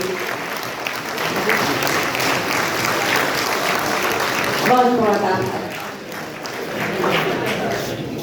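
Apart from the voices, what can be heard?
audience applause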